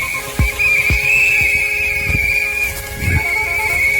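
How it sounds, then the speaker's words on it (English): Chaotic outdoor din during a bug swarm: a sustained shrill whistle-like tone runs throughout, broken by deep repeated thumps and honking bursts, loud and close with no talking. "Whistles, screaming, car horns, and a billion bugs."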